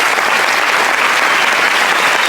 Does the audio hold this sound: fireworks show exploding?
no